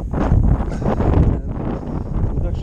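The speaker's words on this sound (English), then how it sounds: "The wind is really chilly up here." Wind gusts across the microphone high on St. Sunday Crag, a mountain fell, on a chilly July day, giving loud, buffeting low rumbles that rise and dip in uneven pulses.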